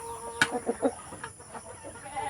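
Black Australorp chickens cluck in short, irregular bursts, with one sharp louder call near the start followed by softer clucks close by on a farm.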